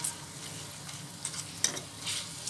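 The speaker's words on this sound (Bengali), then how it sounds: "দিয়ে আবারও কিছুক্ষণ আমি এভাবে নেড়ে চেড়ে নিচ্ছি" Pasta mixed with egg being stirred in a pan, a soft scraping and faint crackle under low background hiss, with a few sharper utensil scrapes mid-way.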